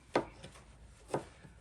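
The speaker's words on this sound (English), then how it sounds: "Keep chopping." A knife chopping vegetables on a cutting board while preparing smoked vegetables for meatloaf, two crisp separate chops about a second apart, close and clear, with no talk.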